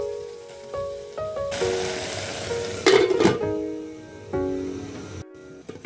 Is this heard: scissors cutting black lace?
no